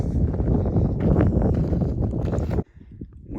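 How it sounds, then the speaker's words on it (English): Wind gusting across the microphone on Humphrey's Peak in Arizona, a loud rumbling roar that buffets steadily for a few seconds before cutting away sharply into quieter gusts. "Wind's certainly starting to pick up"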